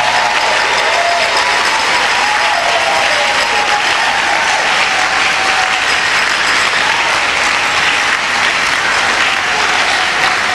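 A church congregation applauds in a large dome during an evening conference service, steady dense clapping at full volume throughout with a faint crowd murmur.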